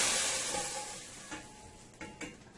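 Toasted cumin seeds and garlic hit a pot of dal with a sharp sizzle that starts loud and slowly settles into a softer hiss, with a few small stirring clatters near the end.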